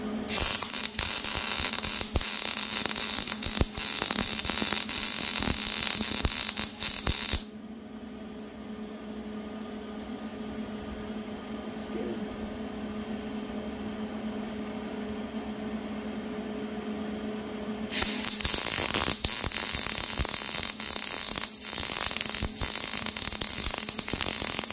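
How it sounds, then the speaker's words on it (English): Welding on a dirt bike frame, a 1999 Yamaha YZ250 engine going into a 1996 YZ chassis, gives a steady loud crackling hiss that stops midway for a quieter low-hum stretch, then starts again just as loud. "next shot will be us finish welding this"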